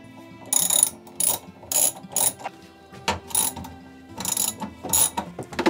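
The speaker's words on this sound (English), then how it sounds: "So the next thing now is to pull all of these bolts off" Ratchet wrench loosening engine bolts during an engine removal, short bursts of quick metallic clicking strokes repeated about ten times, close and fairly quiet with pauses between.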